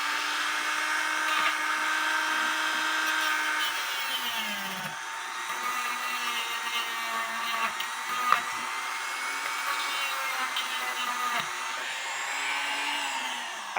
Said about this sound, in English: So that's what this Dremel is for, to get me a flat surface.